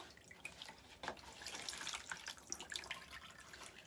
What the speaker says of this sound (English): Let the water run off.